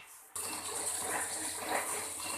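A pressure cooker whistle, while cooking shami kabab, starts abruptly and keeps hissing steadily, a loud continuous rushing steam sound up close.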